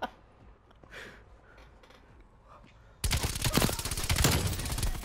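Gunshots in a shooter video game: a quiet stretch with a few faint distant shots, then a sudden loud burst of rapid, rhythmic gunfire up close.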